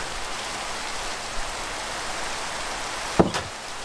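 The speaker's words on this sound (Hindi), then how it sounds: "बाहर बारिश हो रही है" Minecraft rain falling outside a shelter, a soft constant patter with a brief thump near the end, no voices.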